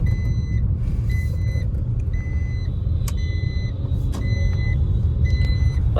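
A Suzuki automatic car cruises along a highway: a steady low road and engine rumble, with a short repeating electronic beep or chime pattern on top.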